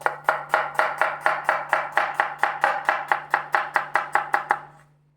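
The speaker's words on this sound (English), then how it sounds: "Onion, once it is cut, you need to keep it separately." An onion being chopped with a knife on a board: about eighteen crisp, evenly spaced strikes in a quick steady rhythm, close and loud, then stopping, with no talk.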